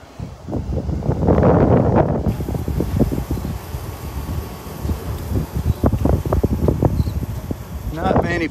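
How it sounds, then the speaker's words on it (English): Gusty wind on a beach by the Naples Pier buffets the microphone with rumbling bursts, swelling loudest early then continuing in fluttering gusts. "Windy, as you can tell."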